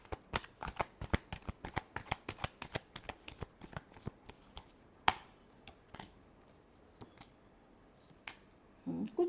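Tarot cards are shuffled by hand in rapid, crisp riffling snaps close by. The snaps come quickly at first, then space out and slow, and faint voice sounds are heard near the end.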